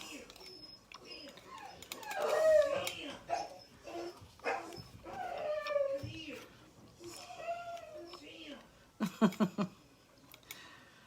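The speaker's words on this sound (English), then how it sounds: "Poor puppy." A dog howls and whimpers indoors in a series of wavering, rising and falling cries, fairly close and loud, broken by short yelps near the end while a person talks at times.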